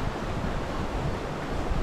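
Rushing floodwater at a typhoon-hit fishpond, a loud, steady broadband roar of moving water heard up close with no voices.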